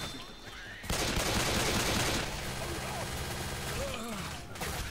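Left 4 Dead 2 pistol fires quick shots in a busy fusillade with other gunfire in a chaotic fight, dense crackling bursts over noisy game ambience, and voices chatter faintly underneath.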